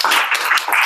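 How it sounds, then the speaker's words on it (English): A brief, dense wash of audience applause at a virtual and augmented reality entrepreneur meetup: many hands clapping at once, steady and fairly loud for under a second. "give a warm round of applause to Jon Masters."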